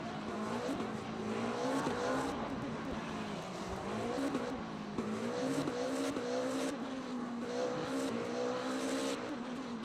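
GT3 and hypercar race cars lap Spa in the Le Mans Ultimate racing game, with a continuous engine drone that climbs through repeated gear shifts and occasional tire squeal, steady and loud throughout.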